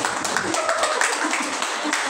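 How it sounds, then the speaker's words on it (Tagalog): A church congregation at a Sunday service gives thin, half-hearted applause. Scattered hand claps run steadily for a couple of seconds at a moderate distance. "Ang tamlay ng palakpak, grabe."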